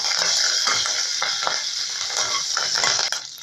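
Curry leaves with mustard seeds sizzle loudly in hot oil in a pan while making Tamil-style chicken chops, with steady frying hiss broken by scraping stirs.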